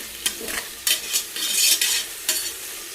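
Onions being sautéed with salt in a pan: a steady sizzle broken by several sharp scraping stirs of a spoon, close and fairly loud, without talk.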